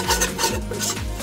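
A roux being stirred into a thick paste for steak soup, with repeated rhythmic scraping and rasping of a utensil against the pan, close and fairly loud, three or four strokes.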